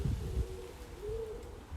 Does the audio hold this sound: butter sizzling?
no